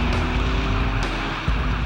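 A police car speeds off during a chase in the UK, a loud, close engine roar held steady with a brief tyre-like burst near the end.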